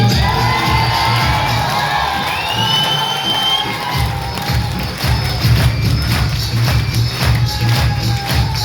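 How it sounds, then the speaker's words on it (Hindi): A loud crowd at a large public gathering in Sitamarhi, Bihar, cheers and whoops with children shouting, whistles rising through the din, and clapping and thuds building toward the end. "एक बार जोरदार तालियों से।"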